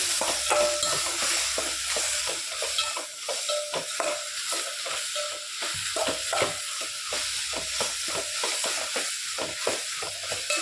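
Potato masala with turmeric sizzles steadily in a hot pan while a utensil scrapes and stirs repeatedly, a busy continuous clatter with no voices.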